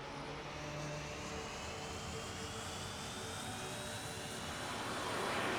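A video game airplane engine at high power, a continuous broadband roar with a rising whine, steady and loud throughout and building slightly toward the end, with no voices.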